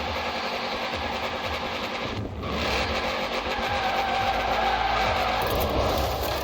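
Tires screech and skid as the Shelby 1000 drifts in Forza Horizon 4, a sustained loud squeal over a roaring, revving engine, with a brief dip before the engine surges again.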